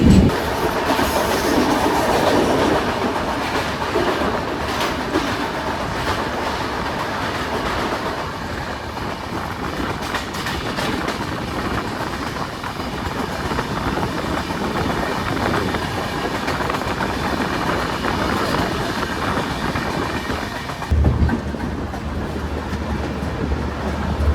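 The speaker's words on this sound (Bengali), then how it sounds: "এবার আসছে ট্রেন নাম্বার চোদ্দ হাজার ছশো দশ শ্রীমাতা বৈষ্ণদেবী কালকা থেকে যোগনগরের" An Indian express passenger train rumbles past close by, with a heavy continuous roar and rhythmic clatter of wheels over rail joints, then the sound drops near the end.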